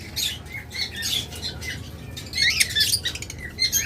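Caged pet birds, lovebirds or cockatiels, calling in a steady stream of bright, close chirps and squawks with some wing flutter in the background; no one speaks.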